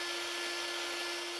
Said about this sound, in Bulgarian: Бормашинката ми! Изгубих си бормашинката!